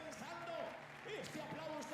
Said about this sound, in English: Don't stop that applause.